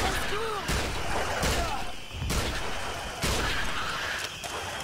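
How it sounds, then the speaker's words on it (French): Gunshots in the King Kong video game come as repeated sharp bangs roughly once a second, mixed with jungle creature cries and game ambience. "Mais tire dessus, bon sang!"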